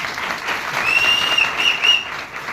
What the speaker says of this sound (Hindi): गुरुदेव के लिए जोरदार तालियां होनी चाहिए।